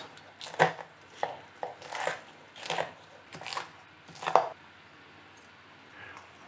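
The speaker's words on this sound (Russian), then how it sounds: "я аккуратно ножом переминаю чили и сычуанский перец." A knife presses and crushes chili and Sichuan pepper on a board for spicy Sichuan beef, giving about seven soft, separate thuds with a crisp edge, close by and fairly quiet.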